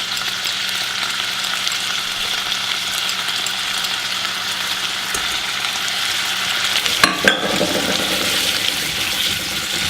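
Brown sugar and honey melting in a pan for glazed carrots, a steady bubbling sizzle with a continuous hiss, broken near the end by a couple of sharper scrapes from stirring.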